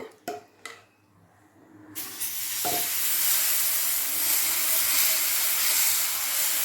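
Millet dosa batter (jowar and urad dal) hits a hot griddle with a sudden rise into a steady, loud hiss and sizzle that holds for several seconds, preceded by a few brief clatters.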